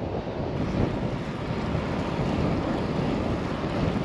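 Strong wind buffets the microphone during a long-distance road bike ride on a grey, very windy day, a steady broadband rush and rumble with no voices.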